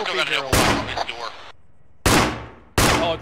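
A tank's coaxial machine gun firing in the Arma 3 military game, heard as three loud, abrupt bursts separated by short gaps, with someone talking over the first.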